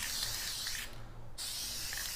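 A Plastidip spray can sprays onto the tank of a 2022 Indian Scout Bobber motorcycle, two steady hissing bursts separated by a brief pause, close and fairly soft.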